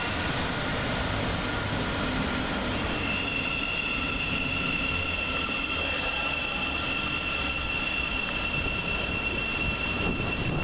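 A Class 700 Govia Thameslink train sits at Luton station after terminating, a steady electrical whine and hum over constant rumbling rail noise, fairly close and unchanging throughout.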